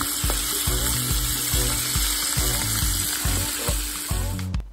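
Crappie frying in a small amount of grease in a pan, a dense steady sizzle with rhythmic low knocks and bubbling underneath, close and continuous with no voices.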